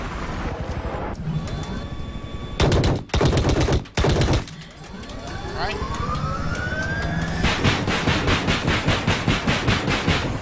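Helicopter rockets firing in Battlefield 4: loud bursts of rapid launches and explosions cut in and out, then a rising whine and a fast stream of repeated shots, close and dense with game sound throughout.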